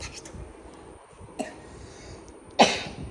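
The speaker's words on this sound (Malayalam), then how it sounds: "ചേച്ചിക്ക് വല്ല ചുമയുണ്ടോ?" A woman coughs twice, with a short, moderate first cough and a sharper, louder second one a moment later, close by over quiet room noise and with no talk.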